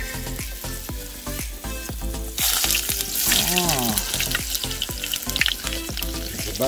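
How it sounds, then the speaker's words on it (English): Onion sizzles loudly in a frying pan alongside king salmon, a close, continuous crackle and hiss that swells as more goes in, with a voice briefly heard over it. "let's add a little bit of onion on this stuff right here"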